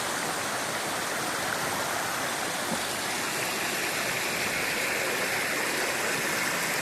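Constant rushing water of a flowing forest stream in Chinnar Wildlife Sanctuary, Kerala, a steady broadband wash with no voices, close and fairly loud.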